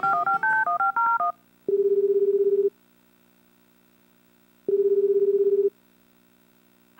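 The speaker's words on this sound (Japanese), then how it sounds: "佐伯くんに電話しよう。" Telephone keypad tones in the video game Tokimeki Memorial Girl's Side 2nd Kiss: a quick run of about ten clear dialing beeps, then two long, evenly spaced ringback tones separated by silence.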